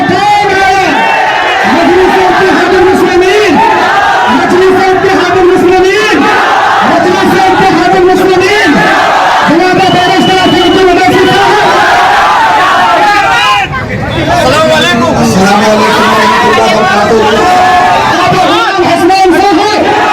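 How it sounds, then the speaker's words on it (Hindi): A large, excited crowd gathered in Bihar to see Asaduddin Owaisi shouts and chants loudly and continuously, rhythmic collective cries rising over dense babble, close and sustained throughout. "असदुद्दीन ओवैसी को देखने के लिए देखिए बड़ी भीड़"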